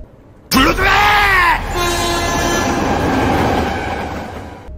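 A train rumbles loudly with a sharp onset as it comes to a stop, a high squealing tone sliding down at first, then steady rolling noise that slowly fades.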